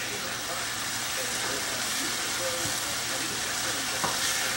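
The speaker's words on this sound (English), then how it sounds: "It's just frying up at the moment." Steady broadband sizzling of food frying in a pan, a continuous hiss with occasional faint clinks and soft voices underneath.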